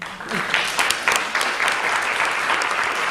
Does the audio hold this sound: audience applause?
yes